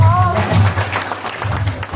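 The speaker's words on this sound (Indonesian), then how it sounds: "Boleh tepuk tangan untuk Pak Mustafa?" A short burst of audience clapping for Pak Mustafa at a leadership training session, with voices mixed in over the brief applause.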